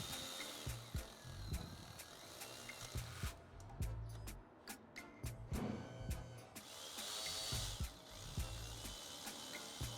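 Socket ratchet snugging bolts on the 1.5L turbo engine of a 2018 Honda Accord during head gasket work, a run of quick clicking strokes with short pauses, close and moderately loud amid workshop clatter.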